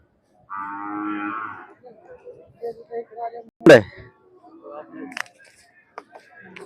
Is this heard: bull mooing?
yes